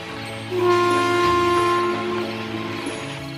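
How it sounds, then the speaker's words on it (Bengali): A cartoon ghost train pulls into a station late at night and comes to a halt, with a steady, layered, horn-like tone rising after half a second and holding before easing off near the end. "ওকে অবাক করে দিয়ে ট্রেনটি ওর সামনেই দাঁড়িয়ে পড়ে"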